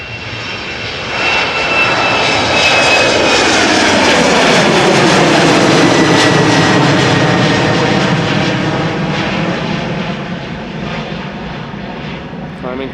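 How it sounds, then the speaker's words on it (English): An Embraer 190 jet roars while climbing out after takeoff at Amsterdam Schiphol, its loud engine rumble swelling and then holding steady with a falling whine, heard alone without talking. "Looks like a second Embraer is going to precede the 767."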